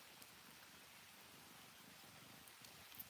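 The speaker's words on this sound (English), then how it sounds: "Can y'all hear the rain?" Steady rain falls outside, a soft even hiss of drops on surfaces with no distinct beat, fairly faint and unbroken throughout.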